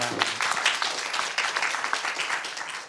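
Audience applause at a Korean chemistry research institute entrepreneurship talk concert: dense, steady clapping from a crowd, fairly close and sustained for the full few seconds with no talking over it.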